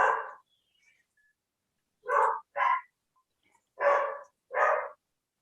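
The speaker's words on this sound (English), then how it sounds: "the dog has just started barking as this is due to start." A dog barks indoors, a single bark followed after a pause by two quick pairs of barks, fairly close and alone with no talk.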